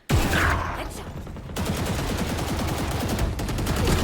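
Rapid gunfire in a competitive Valorant esports match, sharp cracks and a dense stream of rattling shots close by, with brief pauses between bursts.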